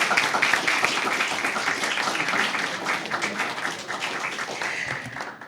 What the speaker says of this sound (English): I heard the boys over here on my left really clapping